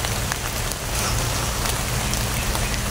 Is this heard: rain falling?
yes